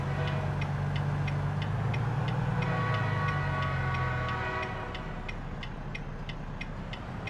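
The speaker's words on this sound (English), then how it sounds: "There's the train." Train passing in the truck-driving game American Truck Simulator, set in Illinois: a heavy, steady low rumble that fades after a few seconds, with an even, rapid ticking running throughout.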